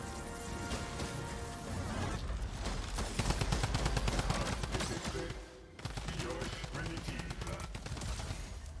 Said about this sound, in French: Là-bas, ça tire.